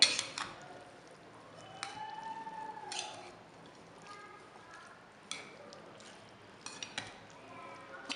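Chana chaat with coriander and mint is stirred in a bowl. A spoon scrapes and taps the bowl in scattered, fairly quiet clinks against a low background.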